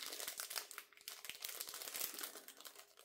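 Christmas gift package being unwrapped, with continuous close crinkling and rustling of wrapping paper and sharp crackles throughout, no talking.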